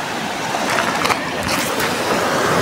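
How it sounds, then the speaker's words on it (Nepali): Sea waves surging onto the shore, a continuous loud rushing wash of surf with some wind buffeting the microphone and no speech. "यहाँसम्म मस्त छाल आइरहेछ"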